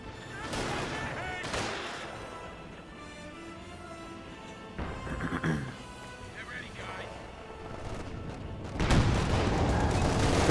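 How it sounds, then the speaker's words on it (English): An anti-tank gun fires in a Company of Heroes 2 World War II strategy match, with a few dull booms and crackling gunfire scattered through continuous excited commentary from a caster. "Good hit there with the AT gun"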